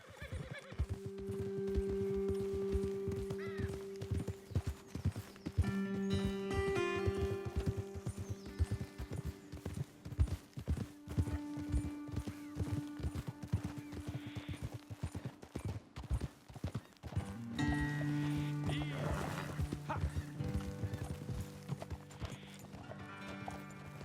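Horses in Red Dead Redemption 2 clop steadily along with continuous hoofbeats, joined by occasional whinnies and snorts over a sustained musical score, with no talking.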